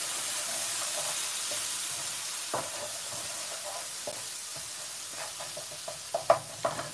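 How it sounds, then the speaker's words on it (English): Curry with base gravy sizzles and hisses steadily in a hot pan, close up, with a few soft stirring clicks toward the end. "during that time it will still be frying and getting up to the right temperature"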